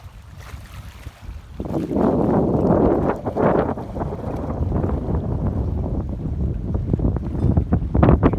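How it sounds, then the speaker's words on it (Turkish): Strong wind buffets the microphone in a continuous low roar on a sandy beach at Güre, Turkey, with surf or water rushing underneath. "Bugün biraz fazla rüzgar var şu anda."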